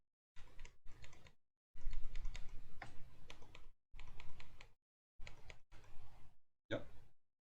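Keys on a Mint Portico custom keyboard are struck in clustered bursts of crisp, close clicks and clacks separated by brief silences, including presses of the space bar.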